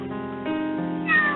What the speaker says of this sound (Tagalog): May pusa rin ako dito.